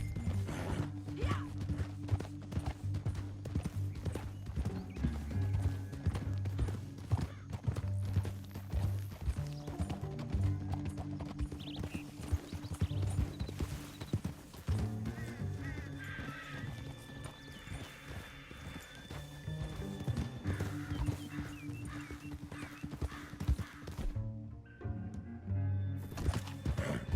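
Horses gallop through a canyon in Red Dead Redemption 2, with rapid drumming hoofbeats and occasional whinnies under a steady, busy bed of game sound that continues throughout.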